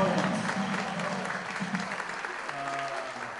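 A university welcome concert audience applauds loudly and steadily, with crowd murmur mixed in and some sustained musical tones near the end.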